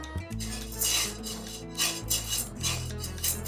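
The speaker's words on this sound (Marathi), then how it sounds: "एक वाटी साबुदाणा इथे घेतलेला आहे दोन ते तीन मिनिट हा साबुदाणा आपण भाजून घेऊ" Dry sabudana (sago pearls) being roasted in a pan, with a spoon scraping and stirring the pearls against the metal in a soft, continuous rasping rhythm, close by and with no voices.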